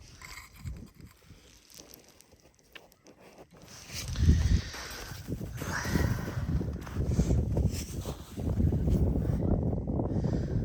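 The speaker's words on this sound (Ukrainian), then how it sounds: "Щось піднявся вітер на озері" Gusty wind over a frozen lake buffeting the microphone outdoors, rising after a few seconds into a steady low roar with a faint whistle.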